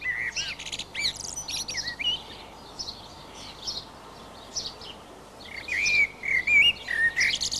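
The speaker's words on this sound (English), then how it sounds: "The blackbird has a beautiful flute-like song." A blackbird sings in a British garden, clear fluting phrases and chirps in bursts separated by pauses, moderately near over a soft background hiss.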